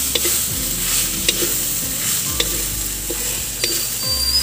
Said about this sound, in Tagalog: ang gagawin ko dito sa niyog ay yan, sangagin ko muna siya hanggang sa medyo maluto